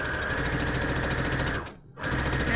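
A sewing machine stitches a fabric surgical-style face mask with a steady, fast, close mechanical chatter that stops briefly for about a quarter second before running again at the same pace.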